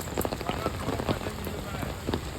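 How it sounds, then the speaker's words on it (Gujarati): Steady rain pattering on a surface, a dense continuous hiss with scattered louder drops, close by. "વરસાદે તો ભારે કરી."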